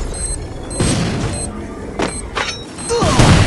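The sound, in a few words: grenade explosion in a mobile shooter video game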